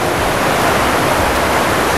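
Water rushes through the inlet channel of a wastewater treatment plant, a loud, steady broadband roar that fills the whole stretch without pause and with no voices.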